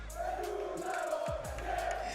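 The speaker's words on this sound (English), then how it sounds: "apparently the French community, they can cheer the loudest" French fans roaring at the FNCS 2023 Fortnite Global Championship esports event: a steady wall of crowd cheering and chanting fills the arena throughout, loud and continuous with no clear breaks.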